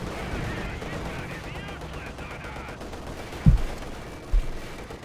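Gunfire in Company of Heroes 2, a match of Wehrmacht against Soviets, with a tank's 85mm gun firing at a 222 armoured car: two short, sharp reports near the end, the first louder, over a steady battle rumble.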